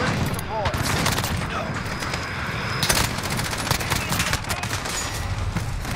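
Sustained automatic gunfire from a Modern Warfare multiplayer match, a continuous close rattle of rapid shots with a sharper burst partway through, steady and loud throughout with no voices.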